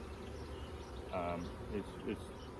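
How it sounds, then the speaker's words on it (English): Honeybees in an opened double hive colony give off a faint, continuous buzz, with a few brief louder hums as single bees pass close by. "fun for me to be into a box full of insects that can sting you"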